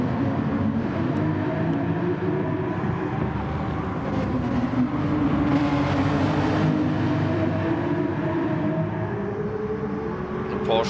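A Porsche race car engine driving under load, a steady droning hum that holds for the whole stretch with a slight swell in the middle, heard beneath a commentator's continuous talking.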